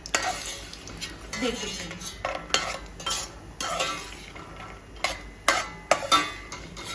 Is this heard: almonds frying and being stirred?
yes